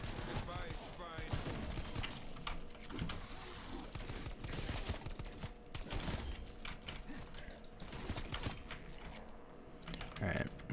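Sustained rapid gunfire at a boss zombie in Call of Duty Cold War Zombies, continuous dense bursts with clicking keyboard and mouse sounds mixed in, steady and moderately loud throughout.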